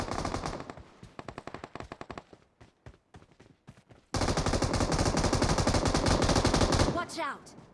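Machine gun fire in a battle royale video game, with rapid repeated bursts and single shots followed by a long sustained loud volley, close and dense, with brief speech near the end.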